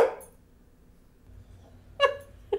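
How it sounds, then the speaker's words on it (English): A dog barks indoors, two short sharp barks close by near the end of a brief, otherwise quiet stretch. "Listen, he's barking right now."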